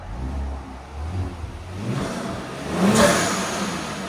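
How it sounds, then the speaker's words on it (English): A tuned 480hp Kia Stinger GT 3.3L twin-turbo V6 with muffler delete revs and rises in pitch, ending with a sharp hissing whoosh as a blow-off valve vents, fairly close. "You guys will hear the blow-up valves in a second."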